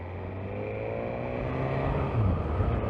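Motorcycle riding heard from a helmet-mounted GoPro Hero 9 with the Max lens mod: a steady engine drone and wind rumble throughout, swelling slightly toward the end as the bike pulls harder, with no talking.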